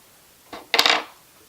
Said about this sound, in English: but I'm going to use my scissors